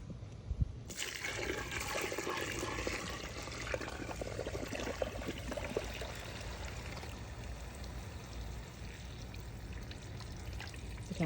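Water from a garden hose gushes steadily into seed-starting mix, a constant close rushing stream that starts abruptly and holds without pause.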